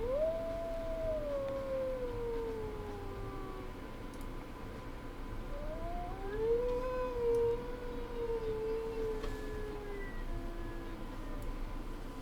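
A wolf in the game WolfQuest howls twice, long sliding tones rising and falling, the second beginning around the middle, carried over a steady low ambient bed with no talking.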